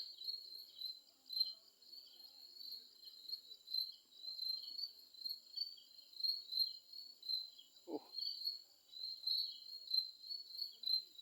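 Crickets trill steadily and without a break on a hillside in the Bangladeshi countryside, the high chirping sitting at the same level the whole way through, with one short soft knock about two-thirds of the way in.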